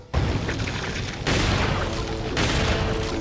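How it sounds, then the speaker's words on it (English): A hand grenade goes off in Resident Evil 4, a loud, dense blast that rises abruptly, followed by further heavy bursts of rumbling game combat noise one after another, with no talking. "Hand grenade. Go!"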